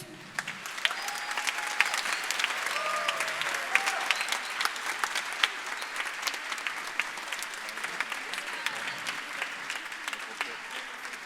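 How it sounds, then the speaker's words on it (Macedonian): A hall audience at a charity concert for children performers breaks into sustained, dense clapping that stays strong throughout, with scattered louder claps and a faint murmur of voices underneath. "Са уште еден аплауз за сите нив."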